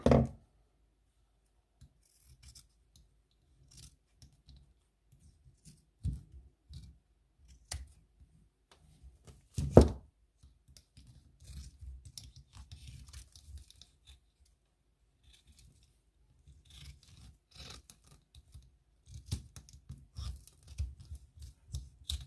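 Scissors snip craft material for a Valentine's project with recycled glass jars, giving sparse, close clicks and cuts scattered between quiet gaps, with a few quicker runs of snipping.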